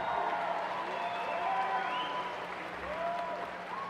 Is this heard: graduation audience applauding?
yes